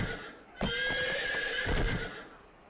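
Horse in the video game Age of Wulin letting out a loud, drawn-out neigh of about a second and a half, with hoof clip-clop mixed in underneath.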